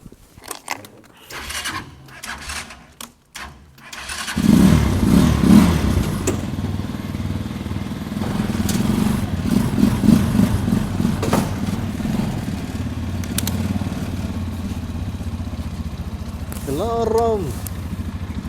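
A motorcycle at a Jayhun Motors dealership starts up after a few clattering thumps, then runs with a steady, rumbling idle and occasional revs, close and loud, with people talking over it.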